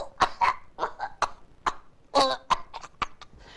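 A human voice imitates a distressed basset hound coughing or choking, producing a rapid series of raspy, hacking bursts and gagging sounds that are close and loud.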